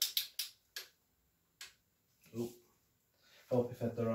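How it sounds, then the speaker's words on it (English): Ratchet-style clicks from a torque wrench tightening connecting rod bolts on a turbo Honda Civic Type R EP3 engine, a few sharp ticks followed by a low creak and a brief clunk, close and fairly quiet. "So we're going to torque these down to 43 foot-pounds."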